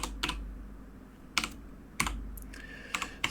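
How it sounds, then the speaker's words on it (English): Someone types a password on a computer keyboard: a few quiet, sparse keystroke clicks with irregular pauses, close and alone, with no talk. "It's very hard sometimes when you're typing in a password to not say the characters you're typing out loud."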